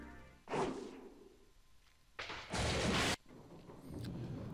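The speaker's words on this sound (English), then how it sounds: "Lightning and thunder struck like an explosion." Two loud cracks of thunder, a sharp burst followed by a longer rumbling crash, then fading noise.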